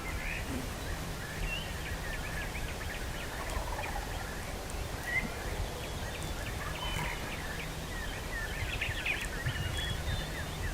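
Wild turkeys gobble out in the timber at dawn, several faint, distant rattling calls scattered over a steady hush of outdoor ambience with other birds chirping.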